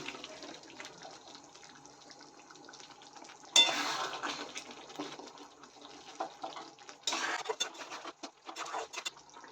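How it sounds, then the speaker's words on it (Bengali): Pieces of fried cauliflower tipped into a bubbling gravy for cauliflower korma, a low simmering hiss that breaks into two bursts of splashing, clattering stirs in the pot, with no talk. "এর মধ্যে সে ভেজে রাখা ফুলকপিটা দিয়ে দিচ্ছি"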